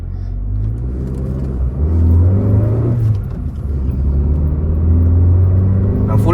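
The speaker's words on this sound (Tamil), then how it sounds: "வண்டி வந்து அரௌண்ட் 4500 RPM 90 பண்ணிட்டு இருக்கு." Maruti Suzuki Fronx with a 1.2 litre petrol engine accelerating at half pedal to around 4500 rpm, a steady loud rising engine drone with road rumble heard from inside the car, continuous throughout.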